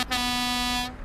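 Loud air horn of a Scania R500 Topline truck in Euro Truck Simulator 2, a single sustained rich blast held for about a second, then cut off.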